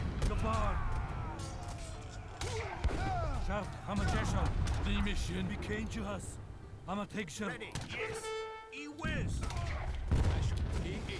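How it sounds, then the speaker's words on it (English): Mortar fire in the video game Age of Empires 3 booms repeatedly amid battle noise and gunfire bursts, layered under a voice speaking almost throughout. "Move our mortar into range here, and start firing away."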